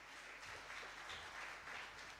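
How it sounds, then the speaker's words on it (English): An audience at the Goa Open Innovation Challenge 2025 event at the Grand Hyatt, Bambolim, claps as a guest is invited on stage. The applause is faint, distant and continuous, with no voices. "A big round of applause, please, everybody."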